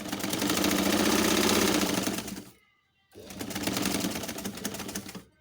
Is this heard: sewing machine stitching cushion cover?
yes